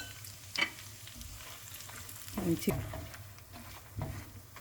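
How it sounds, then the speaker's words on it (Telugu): Besan (gram flour) roasting in a pan for a spinach dal fry: a low, quiet sizzle with soft stirring thumps and scrapes, and a brief vocal sound rising partway through. "బేసన్ మంచిగా ఫ్రై కావాలి."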